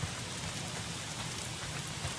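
Steady, dense rain in the video game Days Gone hisses continuously at an even level, a constant wash of falling drops with no voices.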